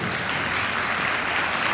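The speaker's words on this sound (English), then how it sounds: "don't go clapping now" Steady, dense applause from an audience at a school senior awards night, clapping evenly throughout without any voices standing out.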